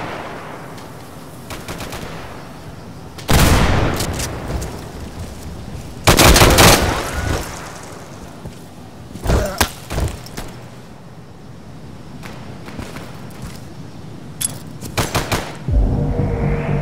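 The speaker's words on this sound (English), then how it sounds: "Just shoot through the walls, man." Gunfire in the video game Insurgency 2, with loud sharp bursts and rapid volleys of shots punching through walls at irregular intervals over a low steady background, with no talking.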